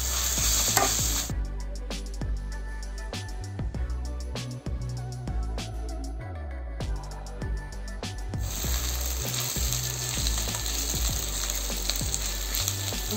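Thirukkai fish masala for puttu sautéing on a low flame, a steady close sizzle with repeated spoon scrapes and stirring clinks across the pan throughout.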